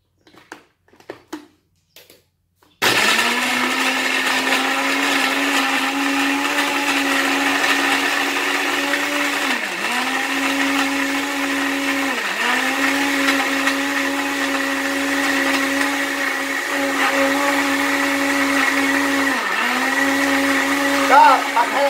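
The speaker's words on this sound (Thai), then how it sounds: "ปิดให้สนิทแล้วก็เปิดเครื่องปั่น" An electric blender whirs steadily as it purees banana with fresh milk, a loud continuous motor drone that dips briefly in pitch a few times as the contents churn. Faint clicks and handling sounds come before the motor starts.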